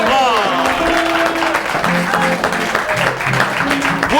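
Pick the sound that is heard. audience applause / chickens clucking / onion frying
audience applause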